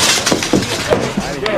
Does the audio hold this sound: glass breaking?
yes